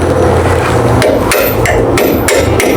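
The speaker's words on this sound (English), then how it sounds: "Smack that shit with a hammer" Sharp hammer blows strike metal at a steady rhythm during a 1979 Fox Body suspension swap, about six metallic strikes over a constant loud background hum.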